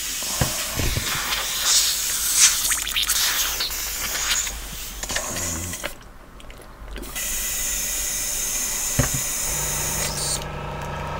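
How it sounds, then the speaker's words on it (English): An airbrush is cleaned out at a hobby workbench used for weathering resin Sherman tank models, giving a steady close spraying hiss in bursts with short pauses and no talk. "Cleaning out the airbrush so you guys have some idea what I'm doing."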